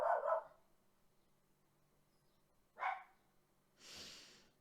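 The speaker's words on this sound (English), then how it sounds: "I do not like this dog." A dog in the Sims 4 High School Years trailer barks in short bursts, two sharp yaps near the start, another a few seconds later, then a breathy huff at the end, over a quiet background.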